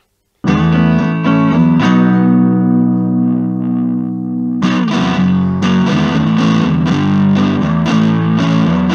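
Heavily distorted electric guitar chords from the guitar's built-in distortion and stutter controls ring out, one sustains and fades, then a burst of choppy, stuttering distorted strums follows.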